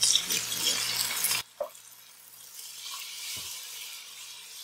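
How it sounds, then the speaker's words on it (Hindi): Browned onions in hot oil for a homemade country chicken biryani sizzle and fry loudly, then water is poured in and the noise drops to a softer, steady simmer with occasional faint bubbles. "अब इसके अंदर थोड़ा पानी डालेंगे।"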